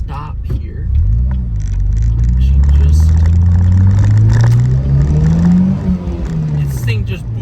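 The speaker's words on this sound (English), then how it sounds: "Alright, here we go again in competitive mode. Just coming from a stop here." Turbocharged Pontiac Solstice with a Stage 1 tune launching hard from a stop, its engine rumble rising steadily in pitch through a gear under a voice, heard from inside the car.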